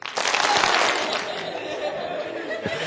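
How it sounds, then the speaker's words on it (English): A conference audience at a high technology day event claps on request, a quick loud burst that fades into a sustained murmur of chatter and a little laughter. "Clap 3 times if you're looking good."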